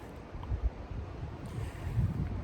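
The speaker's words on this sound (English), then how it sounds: "It's a little windy, a little chilly" Wind gusts across a chilly stretch of the Arizona Trail on day one. It is faint, low buffeting against the microphone that swells in a few soft bursts, with no one talking.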